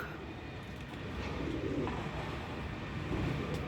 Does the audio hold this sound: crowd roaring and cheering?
no